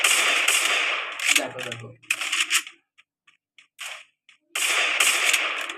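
Free Fire video game match: loud bursts of rapid gunfire come in clusters with short gaps and scattered single shots, while a voice speaks briefly between them.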